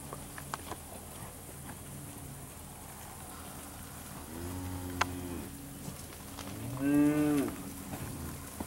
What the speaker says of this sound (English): These are the heifers.